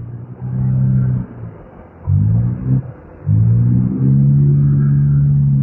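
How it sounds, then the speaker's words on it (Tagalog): A noisy car engine drones loudly and close, its rough, low tone cutting out and returning in uneven stretches before holding steady near the end, with no one talking. "Ingay naman tong kotse na to."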